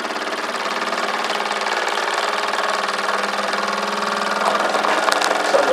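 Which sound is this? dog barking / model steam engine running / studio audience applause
model steam engine running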